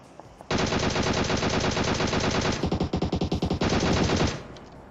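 Rapid automatic gunfire in the video game PUBG Mobile rattles in long sustained bursts, close and loud, with a brief stuttering stretch of separate shots in the middle.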